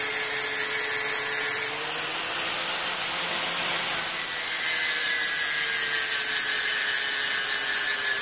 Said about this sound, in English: you want to get out the grinder, and then once you marked where the mount was, so you can grind down the axle tube there